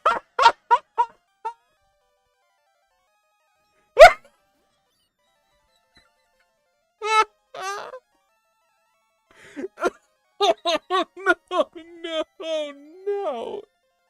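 Short synthesized cries from Beerf, a dog Pokemon in the game Pokemon Fool's Gold, a few clipped chirpy bursts separated by silence, with someone talking over them in the later part.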